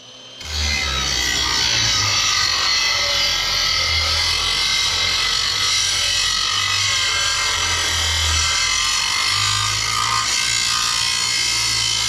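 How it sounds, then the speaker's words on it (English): A big grinder sharpens skid steer mower blades with a loud, steady, harsh grinding hiss that holds for the whole stretch after a brief quiet start. "Had to get the big grinder out for that job."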